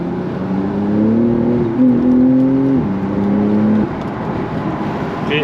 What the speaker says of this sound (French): Et je vous laisse profiter du son de ce flat 6.